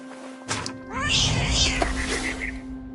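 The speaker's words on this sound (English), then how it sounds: "I was a cat." A cat meows in What Remains of Edith Finch, a short rising cry over a steady electronic hum, with bird-like chirps and rustling game ambience around it.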